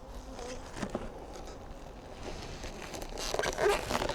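Honey bee drones buzz in flight around hives, a continuous hum with a few louder passes drifting close and away, with no talk over it.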